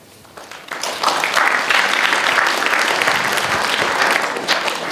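An audience at a high school freshman class kick-off event in Maine breaks into clapping, quickly swelling into dense, steady applause that carries on alone at close range.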